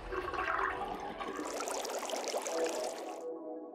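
Water drains noisily from a sink in the video game Zero Time Dilemma, a steady gurgling rush that runs for about three seconds and then cuts off abruptly, with no voices over it.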